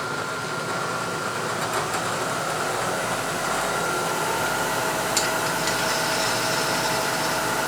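A milling machine spindle running at raised RPM while cutting a slot in a clamp knurling tool body, giving a steady, loud, broadband mechanical whir and hum with no talk.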